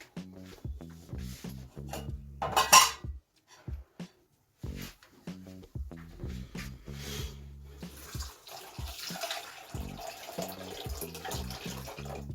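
Water pours into 100 grams of dry lentils in a cooking pot, a steady close splashing over the last few seconds, after earlier knocks and handling noises.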